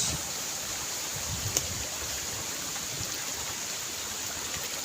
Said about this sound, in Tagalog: Kaya malakas ito ang agos.